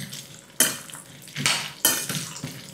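Cashews, walnuts, almonds and pumpkin seeds roasting in ghee are stirred in a pan, with a few sharp scraping strokes of a metal spoon against the pan and rattling nuts, close and fairly loud, spaced irregularly.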